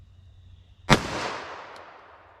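A single sharp gunshot from a Glock 41 firing a .45 ACP semi-wadcutter round, a loud close crack followed by a decaying echo, with no other shots.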